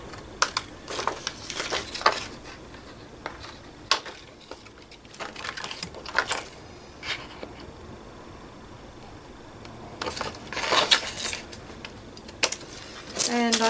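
Scissors snipping paper for an altered journal page, a series of short crisp cuts in irregular bursts with quiet pauses between them, close by.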